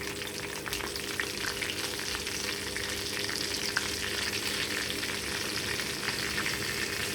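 Steady, loud sizzling and crackling of tomato and okra pachadi frying in a pan with curry leaves and turmeric, close up and continuous without any speech.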